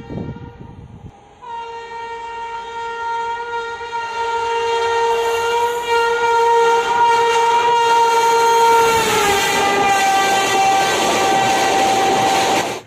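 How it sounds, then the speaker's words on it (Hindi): Passenger train arriving at Parasnath railway station in India, its horn sounding a long sustained blast that swells louder as the locomotive draws near, with rumbling wheels and rail noise building beneath it. "सामने देख सकते हो हमारी ट्रेन आ रही है"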